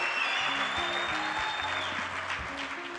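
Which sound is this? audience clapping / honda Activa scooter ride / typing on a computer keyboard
audience clapping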